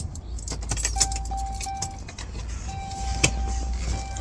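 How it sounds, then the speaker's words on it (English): Keys jangle in the ignition of a Ram 3500 pickup truck as the key is turned without starting the engine, bright metallic clinks with a couple of sharper taps, steady low hum underneath, close by. "I'm going to try to just turn the key, not turn the truck on, and then we'll flip it into reverse"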